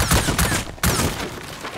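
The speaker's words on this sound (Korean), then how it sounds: "리얼 총소리네" Gunfire in the survival game Rust, loud sharp shots fired in quick bursts with a brief gap, then another shot and its decaying echo.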